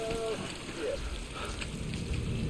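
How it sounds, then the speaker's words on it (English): Steady rain in the video game Death Stranding, a continuous soft patter under a low background hum, with a brief melodic game tone early on and no talk. "Rain, rain, go away."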